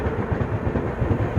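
The Narayanadri Express rolls past close by, a loud continuous rumble of passing coaches with rhythmic wheel clatter over rail joints and no talk over it.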